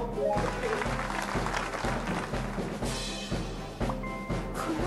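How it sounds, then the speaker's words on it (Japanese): A crowd applauds steadily, dense clapping filling the space at moderate loudness without any talking. "素晴らしいデザインを考えてくれた高校生たちに大きな拍手を"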